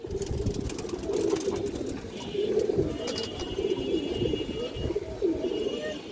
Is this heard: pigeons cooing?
yes